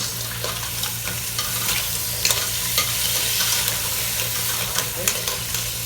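Crab being stirred and fried with tomato ketchup in a pan, steady sizzling with repeated scraping and stirring strokes, close and moderately loud, with no talking.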